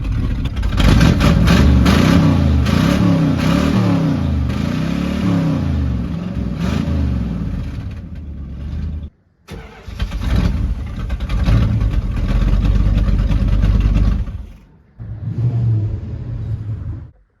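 A 1979 Chrysler 300 junkyard car, running with no accelerator pump and a little smoky, idles loudly and revs up in repeated surges, with a short cutout before settling back into a steady rough idle.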